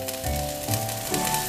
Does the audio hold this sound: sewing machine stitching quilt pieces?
no